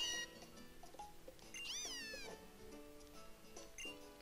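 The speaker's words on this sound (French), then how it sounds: "Mon Flamiaou, il fait des meilleurs miaou que toi." Cartoonish cat meow from the Pokémon Moon video game, a Litten starter, sounding as a few short mews and one drawn-out rising-falling call over soft background game music, fairly quiet.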